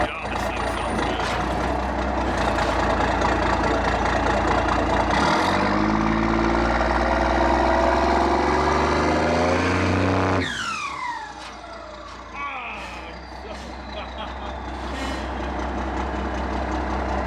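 A Plymouth Cuda's engine starts with a loud, throaty roar, holds a rough, lumpy idle for several seconds, then drops suddenly to a quieter, settled idle while people talk nearby.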